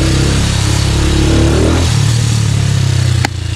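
A 288 cc Motorstar Xplorer motorcycle runs close by with its restrictive stock exhaust, a loud, steady mid-pitched engine drone with a slight rev shift partway through and a sharp click near the end.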